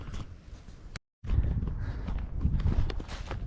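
Hooves of two big horses and a small one walking past on a chalk trail along the South Downs Way, a steady, fairly close clip-clop with a brief gap in the middle.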